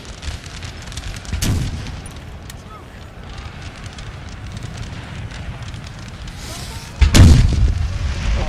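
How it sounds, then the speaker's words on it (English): Cannon blasts from artillery in a Napoleon Total War battle, two heavy booms about five seconds apart, the second louder and closer, over a low wind-like battlefield rumble. "The artillery fire is just a wonder."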